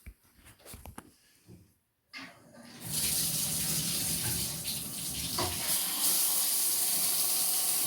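Water bursts from a newly installed shower head after a few faint handling clicks, settling into a steady, hissing spray that continues to the end.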